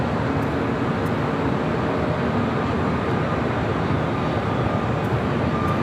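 A Korean Air Cargo Boeing 777 freighter waiting for takeoff at LAX gives off a steady, broad jet engine roar that holds constant at moderate distance, with no voices over it.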